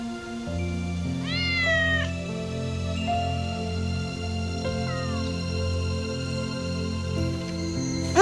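A pet cat meows twice, rising calls that sit over a steady low hum, with a brief quieter mew in between and no talking.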